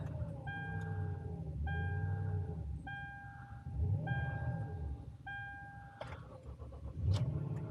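A truck engine turns over and catches on a cold, snowy day, settling into a steady low idle with repeated mid-pitched whines rising and falling over the rumble; close by and continuous, with no talk.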